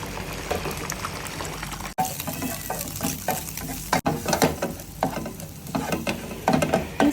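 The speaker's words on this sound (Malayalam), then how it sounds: "അല്പം എണ്ണ ഒഴിച്ച് നമ്മൾ എടുത്തു വെച്ചിരിക്കുന്ന 2 മുട്ട ഇതിലേക്ക് ഇട്ട് സ്ക്രാമ്പിൾ ചെയ്തെടുത്തേക്കാം" Two eggs being scrambled in a little oil in a pan for a Kerala-style broccoli thoran, with steady sizzling and frying and repeated scraping stirs that pause briefly twice, close and moderately loud, with no talking.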